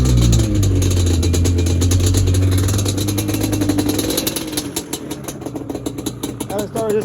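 A Yamaha Banshee 350 ATV engine runs loud and close, a steady rough drone that loosens into uneven pulsing, with people talking over it.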